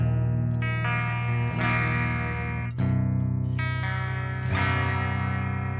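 A budget eight-string electric guitar is played on a clean amp channel through its bridge pickup, with sustained chords changed every second or so and ringing on without any talking.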